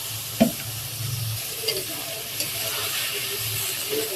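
Potatoes and dried fish sizzling in a hot pan while being stirred, with a steady frying hiss and occasional scrapes and knocks of the utensil against the pan, no voices.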